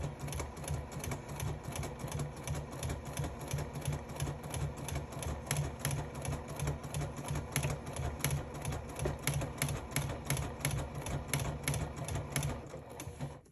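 A sewing machine back stitching over a zipper runs in a steady, rapid, mechanical chatter of needle strokes, close and continuous for the whole stretch with no talking.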